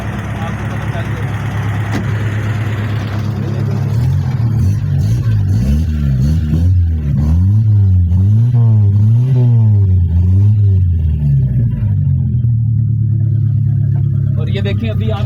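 Engine of a used Daewoo Racer car runs loud and close, idling steadily, then rising and falling through a series of rhythmic revs before settling back to idle.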